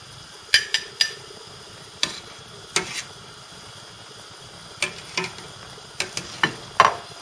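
A spoon scrapes and clinks against a pot while skimming froth off boiling beans, sharp intermittent taps and scrapes in irregular bursts over a quiet simmer, close by with no talk.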